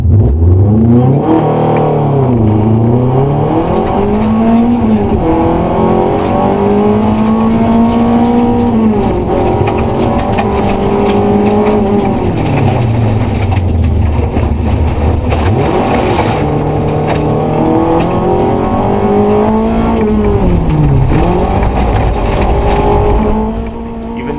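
A rally car runs flat out on an unfamiliar summer stage of the Sno*Drift Rally. The engine is loud and close throughout, climbing and dropping through the gears as it revs hard, lifts and accelerates again.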